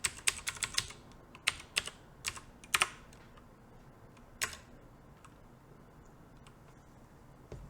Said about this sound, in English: Okay, I'm typing my password, which I will hopefully blur out.